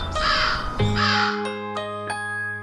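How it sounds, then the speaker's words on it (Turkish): A crow caws loudly and harshly, two long drawn-out calls followed by a few shorter clipped notes, with nothing else around. "Karga zeki bir kuştur,"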